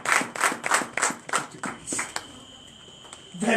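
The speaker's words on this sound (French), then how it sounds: "Donne l'acclamation à Jésus." A church congregation claps rhythmically in acclamation at a night deliverance service. About eight sharp, even claps sound close together, then the clapping thins and fades into a quieter, scattered background.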